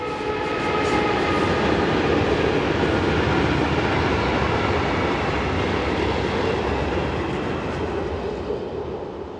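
A Škoda-built Class 123 DC electric locomotive hauling a train along the Elbe valley near Usti nad Labem, a loud continuous rolling roar of wheels and wagons passing close by, slowly fading toward the end.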